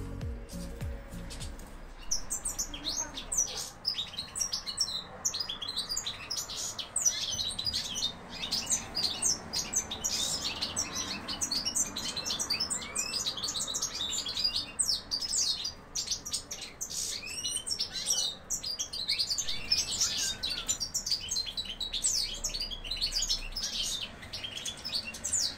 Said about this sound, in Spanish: para que veáis cómo se van animando ya algunos de mis jilgueros